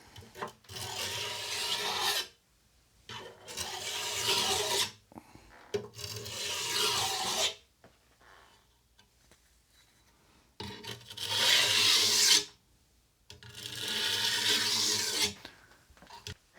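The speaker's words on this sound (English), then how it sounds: "I'm using just a regular old generic oil stone, the fine side of this dual grit one." A backsaw's teeth are rubbed on the fine side of a dual-grit generic oil stone, giving a close, steady rasping in four long strokes separated by short pauses.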